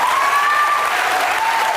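Sustained audience applause, a dense wash of clapping from a crowd, loud and even throughout the short stretch, with no one speaking over it.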